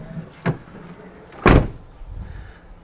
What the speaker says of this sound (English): And if required, I'll shut this door.